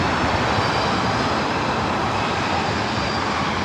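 Southwest Airlines jet airliner at LAX, a loud continuous engine roar holding steady throughout, alone without talk.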